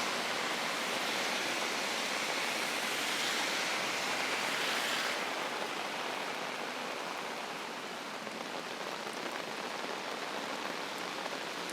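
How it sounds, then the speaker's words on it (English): Heavy rain pours steadily on a city street and onto an umbrella overhead, a dense, loud, unbroken hiss that eases only slightly partway through, with no voices. "the rain just keeps going"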